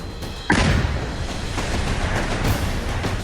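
A powerful explosion tears through and destroys a house, arriving as a sudden heavy boom followed by a sustained roar of rumbling debris noise, with no voices present.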